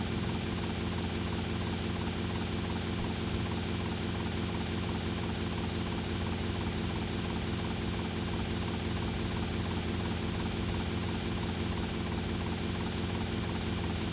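A helicopter arrives with a steady, loud rotor and engine drone that holds level throughout, with no talking over it.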